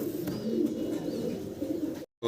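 A pair of fancy pigeons coo steadily and close by in a low, throaty murmur, cutting off abruptly into brief silence near the end.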